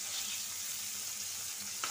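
Green chillies and onion frying in a pan, a soft continuous sizzle heard at close range without talk, with a faint clink near the end.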